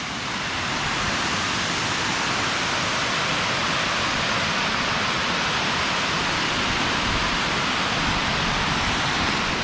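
A waterfall at Mill Creek Park in Youngstown, Ohio roars steadily from close by, a dense unbroken rush that holds the same loudness throughout and has no voices over it.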